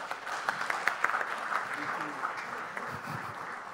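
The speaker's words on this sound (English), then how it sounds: "Once again, a huge round of applause," An audience applauds at a conference session during a memento presentation, with steady, moderate clapping under the murmur of voices, loudest early on and tapering slightly toward the end.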